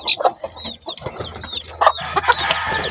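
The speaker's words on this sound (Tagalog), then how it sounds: "ito na yung mga sisiw natin, mga kamanok. Kahalo na yung 7 pieces na 3 days old" Seven three-day-old chicks mixed with month-old chicks cheep in a close, busy chorus of high peeps and chirps, with some lower clucking, steady throughout and no talking.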